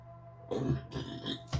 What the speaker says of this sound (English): Ooh, oh my God, that's a big burp.